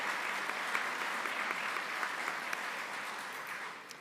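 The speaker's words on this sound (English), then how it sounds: "I was thinking of a little bit more applause." Steady audience applause at an honors convocation, a dense, even wash of clapping that holds for about four seconds and thins slightly at the end, with no talking over it.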